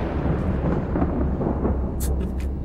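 Rumbling thunder in the horror video game The Alien Cube, a loud low roll that fills the whole stretch with a few sharp crackles near the end.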